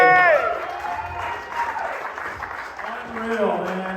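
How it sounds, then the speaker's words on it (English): A crowd applauds at a BMX gathering, with clapping running under a speaking voice and some cheering mixed in before the talk carries on. "Big round of applause to these guys."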